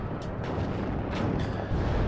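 Artillery cannon and Jagdpanzers fire in a WARNO real-time war game battle, a dense rumble of overlapping booms and distant blasts over a continuous low roar.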